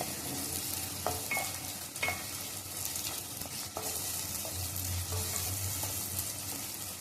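Onion and tomato for a ghevda (flat bean) bhaji sizzle in a pan, with a soft, steady frying hiss punctuated by scraping stirs of a spoon at irregular intervals.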